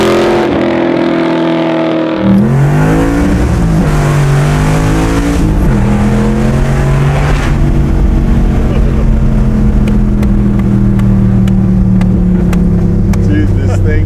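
Pro Street '67 Chevy Nova accelerating hard, its loud engine note climbing and pulling steadily through the gears with a brief rev near the start, close and continuous throughout.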